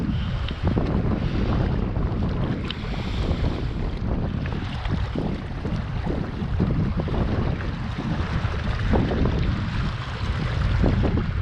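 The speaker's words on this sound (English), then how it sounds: "Just we'll wait to see if that wind settles down." Strong wind buffets the microphone beside a reservoir dam wall during pike fishing in September, a constant loud low rumble with gusting roar and no voices.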